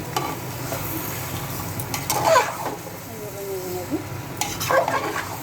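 Meat is stirred in a pressure cooker during cooking. A soft sizzle runs under a few scraping, clattering strokes of a spoon against the metal pot.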